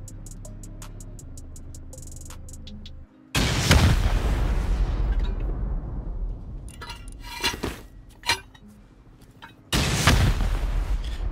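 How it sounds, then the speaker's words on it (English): Rocket explosions crash in during a raid in a survival video game, a sudden loud blast at about three seconds followed by a long rumbling decay, smaller impacts and clinks, then a second heavy blast near the end. "What are you rocketing, bro?"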